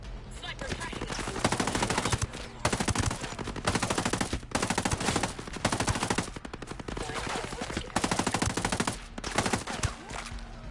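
Rapid bursts of gunfire from the video game Ghost Recon Breakpoint, loud and dense, firing in repeated volleys with brief gaps between them.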